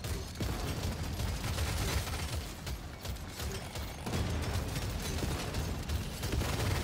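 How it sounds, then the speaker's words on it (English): Sustained rapid gunfire from a smart rifle in the video game Deep Rock Galactic Survivor, a dense mechanical rattle of bullets running continuously and loudly throughout with no talking. "Oh, it is really unleashing those bullets."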